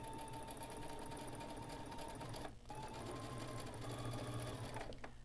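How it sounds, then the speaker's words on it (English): A sewing machine runs a row of gathering stitches along a half-inch seam allowance for a DIY turban, whirring steadily and close, with a brief pause midway and a stop near the end. "Do your first row of stitches."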